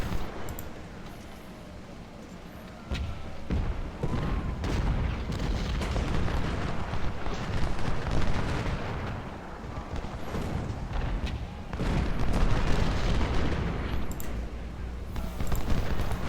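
Artillery cannons fire across a Civil War battlefield in the strategy game Ultimate General: Civil War, with deep rumbling booms and scattered gunfire, heavy and continuous and rising and falling over many seconds.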